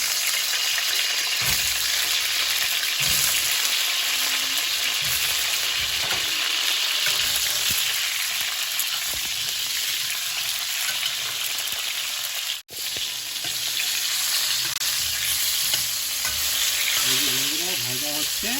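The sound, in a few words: eggplant pieces frying in oil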